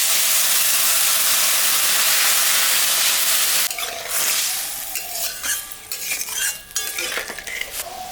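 Mustard paste with green chillies and two dried red chillies hits a hot pan for a fish curry, giving a loud, steady hiss of sizzling. It settles into softer frying broken by irregular scrapes and clinks of stirring.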